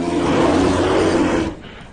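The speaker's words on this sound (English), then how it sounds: "Bear," A bear gives a loud, harsh, close roar lasting about a second and a half, then breaks off and leaves only fainter rough noise.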